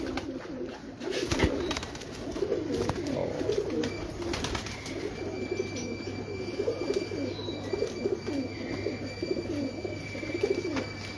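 Breeder pigeons on a Lahore rooftop coo in soft, repeated rolling calls, moderately close, with scattered clicks and rustles and a faint low hum beneath.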